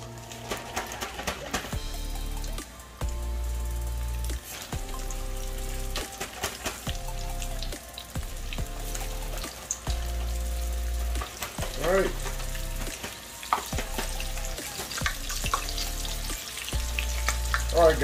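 Spicy buffalo breaded chicken fries in hot oil with a steady crackling sizzle, broken by bursts of stirring and handling clatter, fairly close and moderately loud throughout.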